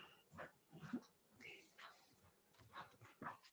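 A dog whimpers and whines faintly indoors in a series of short, thin cries and yips, quiet and close by.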